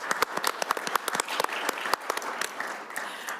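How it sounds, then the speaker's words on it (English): A room full of people gives a round of applause for farmers at an agriculture committee meeting, a dense, steady burst of clapping heard up close with no talking over it. "let's give the farmers in the room and online a round of applause"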